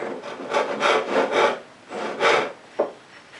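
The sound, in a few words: frame saw cutting wood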